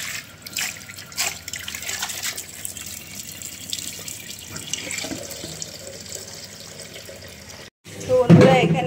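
Water runs and splashes into a pot holding twelve eggs, a steady trickling pour for several seconds followed by a brief stop and a louder splash at the end; faint background voices and household noise.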